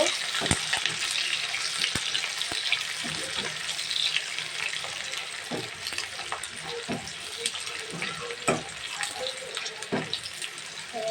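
Chopped onions, about one and a half cups, frying in a pan on a gas stove, a dense hissing sizzle throughout with scattered crackles and occasional stirring knocks; no speech.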